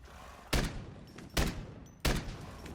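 Three loud explosions go off in a Minecraft game, spaced roughly a second apart, each a sharp burst that decays quickly, with no talk over them.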